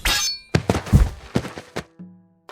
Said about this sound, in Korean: 어디선가 쿵 하는 소리가 들려왔습니다